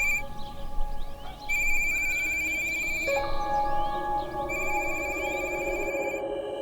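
A telephone rings unanswered in a house, its electronic bell trilling in repeated bursts with pauses between, close and clear over a low background hum.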